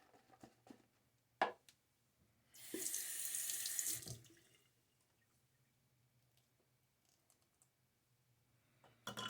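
Tap water gushes into a sink for about a second and a half while Cella shaving soap is being lathered with a brush, a close, steady rush that stops abruptly, with faint clicks before and after.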